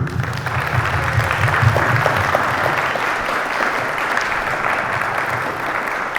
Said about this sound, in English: I give a round of applause for you